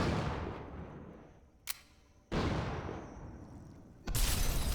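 Gunfire in the SUPERHOT video game: a sharp, brief crack, then two loud, broad blasts that each fade into a hiss, with quieter gaps between them and no talking.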